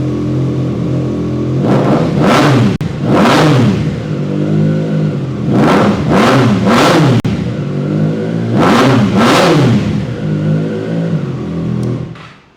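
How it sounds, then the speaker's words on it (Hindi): A superbike engine revs hard in a series of repeated throttle blips, each rising and falling with a loud, sharp exhaust bark, grouped in clusters of two and three with steady idle between. "बहुत ही लाउड और तीखी आवाज़ है इस बाइक की।"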